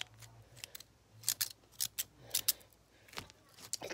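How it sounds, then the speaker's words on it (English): Scissors snip in short, sharp bursts, about a dozen quick close cuts in an uneven rhythm against a quiet background. "I got scissors."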